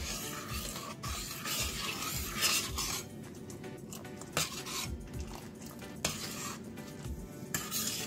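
A pot of broccoli soup thickened with cornflour, with oregano and salted butter, bubbles while a spoon scrapes and stirs it, giving repeated utensil scrapes and clinks over a steady simmer, close and moderately loud, with no talking.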